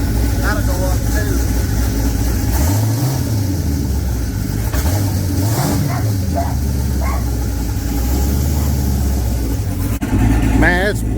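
Turbocharged 5.3 V8 in a 1996 Camaro idles with a steady, loud rumble and rises in two brief revs partway through.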